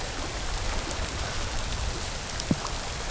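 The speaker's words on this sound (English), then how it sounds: "Just started raining and it's coming down heavy and quick." Heavy rain pours down steadily outdoors during a lightning storm at a lakeside campsite, a dense even hiss of drops with one brief thud near the end.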